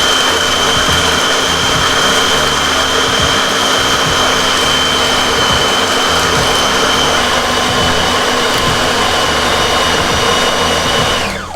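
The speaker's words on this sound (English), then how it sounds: "It's blending time!" An electric blender whirring steadily as it purées a raw meat mixture with egg, salt and sugar for Thai red curry fritters, a loud constant high-pitched motor drone that winds down at the very end.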